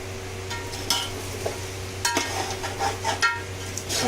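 Four large tomatoes with salt and whole cumin for chicken egg biryani, stirred and frying in a pan, with a soft steady sizzle, scraping spoon strokes and a few clinks against the metal, close up with no voice.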